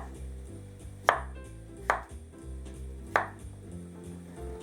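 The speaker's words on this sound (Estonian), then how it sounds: "teda siis lõikame pooleks ja siis sektoriteks" A knife cuts potatoes into halves and then wedges for oven-roasted potatoes, landing three crisp, separate chops on a board over a steady musical backdrop.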